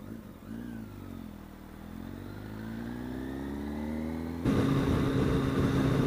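A motorcycle rides along with its engine note climbing steadily as it accelerates, then a louder, rougher burst of engine and wind noise near the end; close and continuous, with no talking.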